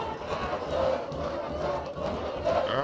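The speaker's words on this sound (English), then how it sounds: "And you could hear the cheer. Bangladesh, Bangladesh from the spectators." Spectators at a Bangladesh versus South Africa under-19 youth ODI cricket match cheer and chant as one steady crowd roar from the stands.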